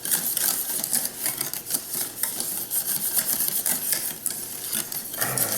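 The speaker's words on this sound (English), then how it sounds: "I'm whisking this gently to really blend it well" A whisk beating hot milk, butter and vanilla in a bowl for a Bûche de Noël batter, fast continuous scraping and tapping against the bowl, close and steady without a pause.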